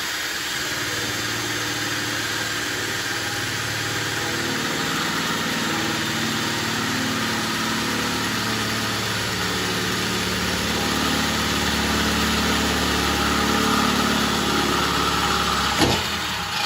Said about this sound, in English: Go ahead and get this started.